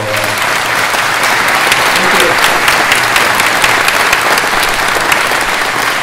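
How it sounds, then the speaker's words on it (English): An audience at a hangar gathering claps in a long, even round of loud applause, close and continuous, with a few voices mixed in. "How about another round of applause for"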